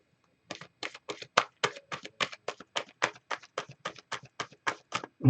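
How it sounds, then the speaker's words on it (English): Oracle cards being shuffled by hand: a rapid run of about twenty crisp riffling bursts in steady rhythm, close and fairly loud, with no talking. "Let me just shuffle this up."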